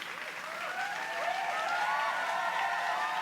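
Audience applause for a band on a talk-show stage, a dense, steady clapping that swells slightly and holds, with faint cheers and whistles through it.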